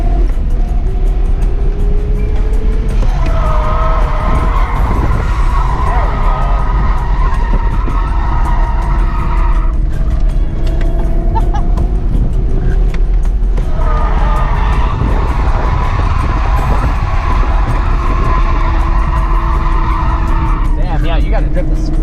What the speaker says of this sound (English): You gotta drift this fast.